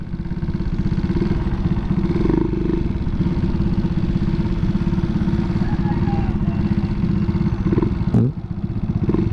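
A Raider J115Fi motorcycle fitted with a low-speed sprocket runs its engine loudly and close up, a continuous rough mid-pitched drone with a brief sharp rev spike near the end.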